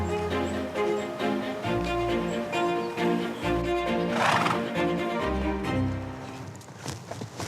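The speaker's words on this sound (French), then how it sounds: "Jonathan entraîne sa jument Vicky de Saint-Jean pour des concours équestres" A mare neighing at a former national stud farm where she is trained for show jumping, loud whinnies with a strong harmonic ring, plus soft low thuds that could be hooves, close by and with no one talking.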